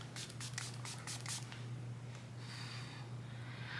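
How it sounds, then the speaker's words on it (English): A fine mist of waterproof makeup setting spray hisses in short bursts at close range, then a softer airy spray trails off, all quiet and with no talking. "And it sprays out this way."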